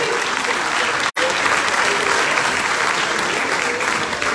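Dense, steady applause from an audience in a cultural centre hall during the Trophée Jean Rougié, loud throughout with a brief cut early on.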